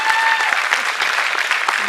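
Audience clapping at a talk with Piyush Mishra, a loud, dense round of applause with a few sharp individual claps standing out, continuous throughout.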